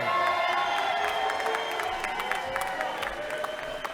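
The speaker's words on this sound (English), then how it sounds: "Big cheering section, Eric." A crowd at a graduation ceremony applauds and cheers steadily for a business school graduate, in a sustained, moderately loud wash of clapping and whoops heard from the hall.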